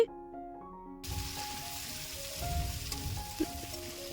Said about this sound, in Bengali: এবার আমি কচুগুলো ওই তেলের মধ্যে একটু নাড়াচাড়া করে নিচ্ছি